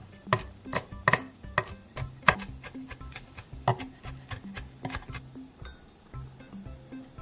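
A knife chops garlic chives finely on a cutting board, giving quick, irregular sharp taps that come in bursts, close and fairly quiet, with no talking.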